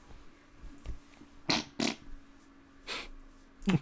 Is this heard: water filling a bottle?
no